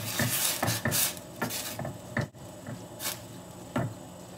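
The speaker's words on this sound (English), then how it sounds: "Just gonna stir it up a little bit." Seasoning is stirred through rice in a pan with repeated soft scraping and clinking strokes at an uneven rhythm, close up, with no talking.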